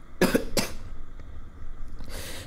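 A person feeling unwell and tired during a cycling trip to Ooty gives two quick, close coughs, followed by faint breathing and soft background noise.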